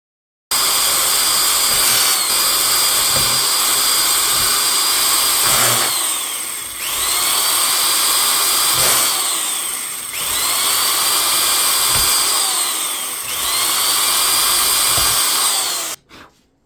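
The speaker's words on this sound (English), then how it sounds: "drill through the bottom, through the holes already there on top" A power drill whines loudly and continuously, drilling holes in RC truck exhaust stacks, with pitch dips as the bit bites into the material, repeated over several passes before stopping abruptly.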